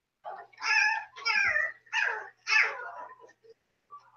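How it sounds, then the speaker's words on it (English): Puppy giving four short, high yappy barks in quick succession, fairly faint and close, with silence around them. "Puppy wants to hear its own voice."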